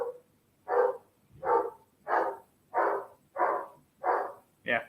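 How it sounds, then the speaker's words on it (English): A dog barking in a steady rhythm, seven loud, evenly spaced barks about every two thirds of a second, close to the microphone with quiet gaps between them. "sorry for the barking"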